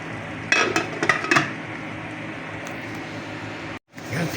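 A pot lid clatters onto a cooking pot of simmering eggplant adobo, a few quick metallic clinks and knocks close by, followed by a low steady kitchen hiss.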